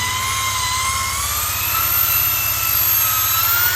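Polishing machine running at medium speed while buffing a chrome Royal Enfield Interceptor clutch cover, a loud steady motor whine with a low droning hum throughout, no voices.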